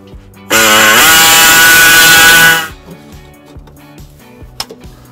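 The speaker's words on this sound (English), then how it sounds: "We're gonna use an air saw to expand the hole." An air saw cutting into a 2016 Subaru Legacy car frame to enlarge an access hole, a loud close buzzing rasp lasting about two seconds and then stopping, followed by faint clinks.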